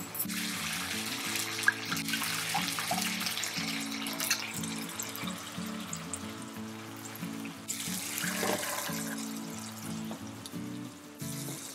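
A kitchen tap runs steadily while green peas are boiled for puri, a constant splashing flow under soft background music, with no one talking.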